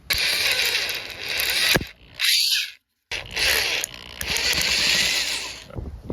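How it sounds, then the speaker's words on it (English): A power drill with a drill bit bores out holes, producing loud whirring bursts in several runs with a brief pause and a short break of silence between them, close by. "We're gonna switch over to this bit and drill these holes out."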